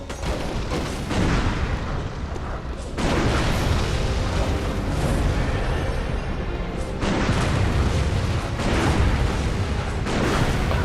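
Point-blank gunshots in the video game Bloodborne, heavy booming blasts that come in a few loud surges over a thick, rumbling layer of combat noise, with no talking.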